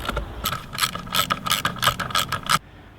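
Impact driver driving a screw into wood, giving a loud, rapid mechanical hammering rattle in quick bursts for about two and a half seconds before cutting off abruptly.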